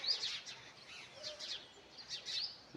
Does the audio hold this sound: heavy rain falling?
no